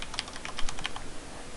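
Quick keystrokes on a computer keyboard while entering a Windows login, a brief burst of about a dozen close, crisp clicks.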